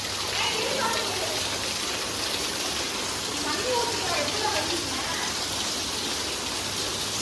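Heavy rain falling steadily in Vagamon, a dense, even hiss of drops on surfaces that holds at the same level throughout with no break, no talk on top.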